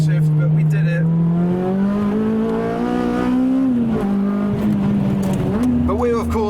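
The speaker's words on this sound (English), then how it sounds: "It's the law, you have to hit the limiter." K24-swapped Honda Civic Type-R engine revs hard and climbs steadily, holding a loud, strained buzz at the rev limiter, then drops briefly at a downshift before rising again, close and dominant.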